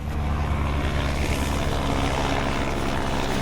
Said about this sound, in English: Rare to see a helicopter fly right over the cabin.